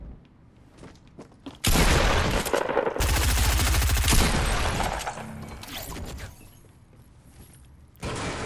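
Loud bursts of automatic gunfire from the player's guns in a video game, a long rapid stream that stops, then a short fresh burst at the end, with quieter gaps between.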